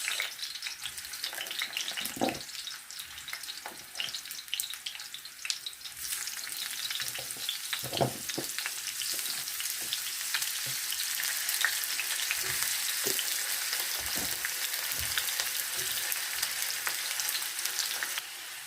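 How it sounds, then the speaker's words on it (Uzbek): Potatoes fry steadily in hot oil with a continuous close, bright sizzle, broken by occasional scraping stirs and clinks, and no one speaks over it. "Kartoshkalarimizni qizartirib pishirib olamiz."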